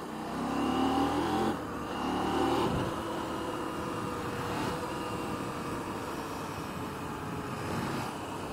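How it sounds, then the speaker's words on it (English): A KTM 790 R motorcycle engine revs hard under acceleration in rally throttle mode, two strong surges in the first three seconds, then a steadier loud drone with rough low rumble through the rest. "throttle response on the rally from street mode, and Jesus Christ, it nearly threw me off the back"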